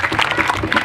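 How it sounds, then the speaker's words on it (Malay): A live crowd at a charity dikir barat performance claps briefly and densely in a short burst of applause, close and fairly loud. "Satu tepukan untuk orang Kelantan kita"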